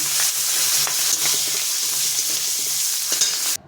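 Fish and capsicum sizzle steadily in hot oil in a home kitchen, a loud continuous frying hiss with occasional stirring scrapes and clinks, no voices.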